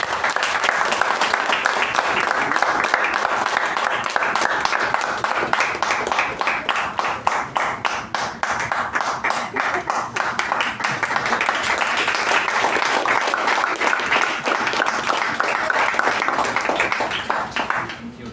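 Audience at a Toastmasters installation ceremony meeting giving a long, loud, steady round of applause to welcome a speaker, dense clapping filling the room throughout with no talking.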